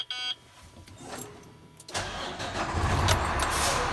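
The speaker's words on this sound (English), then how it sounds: "Go ahead and start the truck." A truck's engine cranks briefly and catches, then settles into a loud, steady diesel rumble close by during a CDL class B pre-trip inspection, with no talk over it.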